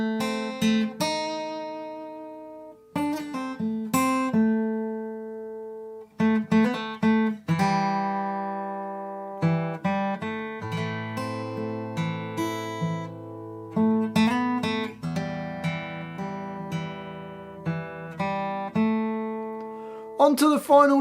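Fingerstyle acoustic guitar plays a full line of a main theme, with plucked melody notes over bass, phrases separated by short pauses, close and clear with no talking.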